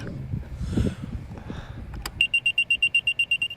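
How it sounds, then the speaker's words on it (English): A sump pump alarm begins after a burst of rumbling noise and then beeps rapidly and steadily, about a dozen short shrill tones in an even rhythm, loud and close. "Yeah, it's a sump pump. It's an alarm."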